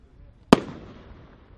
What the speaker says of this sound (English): great tail on every one of these shells. 12-pack of shells, all with tail.